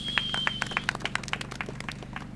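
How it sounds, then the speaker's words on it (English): Audience applause welcoming a speaker at a market launch press conference, a burst of scattered hand claps over a low steady hum, fading out after a couple of seconds. "Give him a warm round of applause,"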